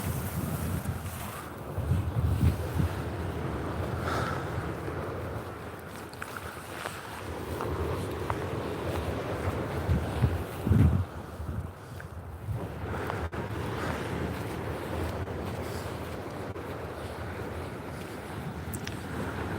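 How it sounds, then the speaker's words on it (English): Sea waves wash onto the shore along the coast near Withernsea, with strong wind rumbling across the microphone; a steady, broad roar with a couple of louder surges, no talk. "look at them waves"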